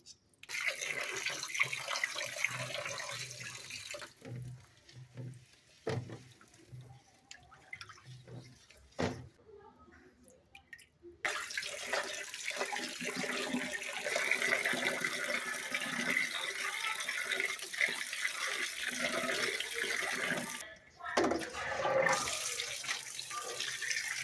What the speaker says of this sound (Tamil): பேக் சைடில் ஒரு சிங்க் இருக்குது, அங்கே வந்து வாஷ் பண்ணுறேன்.